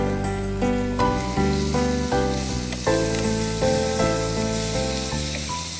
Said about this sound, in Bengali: এটাকে আমরা লাল করা পর্যন্ত ভাজছি নাকি ক্যারামেলাইজ?